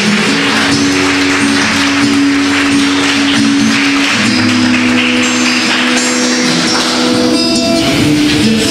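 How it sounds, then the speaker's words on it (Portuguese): A church congregation applauds in a dense, sustained wash of clapping that holds at steady loudness, with faint tonal music underneath. "Você pode aplaudir a palavra de Deus?"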